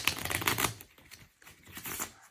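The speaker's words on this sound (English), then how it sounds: "It's called a bridge shuffle" A deck of playing cards given a bridge shuffle: a fast riffle of flicking, clicking card edges up close, fading into softer ruffles as the cards bridge back together, with no voice over it.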